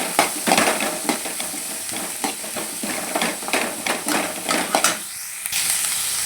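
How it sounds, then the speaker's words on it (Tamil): Onion sautéing in a pan for a dhaba-style Punjabi palak egg dish: a close, steady sizzle broken by repeated scraping stirs of a spatula against the pan, with no talking. "ஆனியன் நல்லா வதங்கட்டும்."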